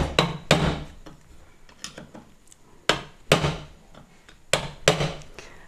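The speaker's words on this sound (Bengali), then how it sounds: "এখানে ডাং দিয়ে ভালো করে টাইট দিয়ে নেবেন" Mallet knocking a sewing machine wheel tight: several sharp, solid thumps in uneven clusters with short ringing tails, close and loud, no talking.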